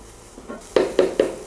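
A spoon scrapes maida flour around a pan while a creamy chicken curry is being made: a few soft taps, then three quick, louder, evenly spaced stirring strokes close by, with no talking.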